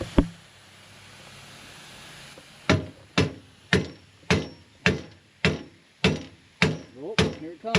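Steady, heavy hammer blows, about a dozen evenly spaced strikes ringing out loud and close after a quiet stretch.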